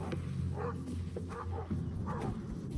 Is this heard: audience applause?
no